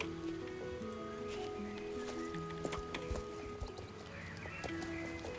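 A horse moves along with hooves clip-clopping in an uneven walking rhythm, set beneath steady sustained tonal music.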